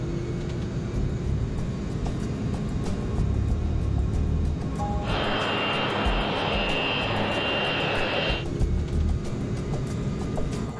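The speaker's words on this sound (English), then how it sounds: "basically roadways for aircraft to move around on an airport" An aircraft taxiing on an airport taxiway gives a steady, loud engine drone throughout, with a brighter, higher whine swelling in for a few seconds in the middle; no voices.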